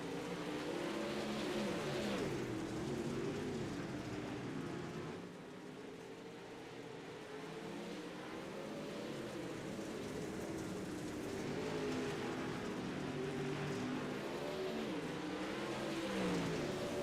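Pro late model race cars roar around Kern Raceway in an iRacing online league race, a dense layered engine drone with revving and shifting pitch from several cars, loud and continuous.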